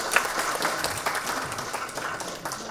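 Applause from the audience at an awards ceremony in India, a dense, steady wash of many hands clapping at moderate loudness for nearly three seconds with no talk over it.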